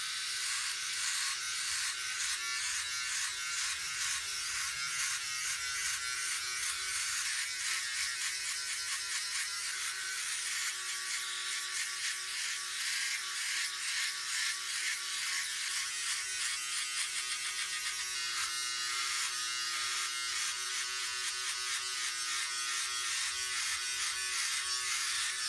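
A Philips Norelco OneBlade QP2520 trimmer fitted with a 1mm stubble comb runs steadily through a beard, a close, continuous electric buzz with faint flickers of texture as it passes over the hair, with no talking.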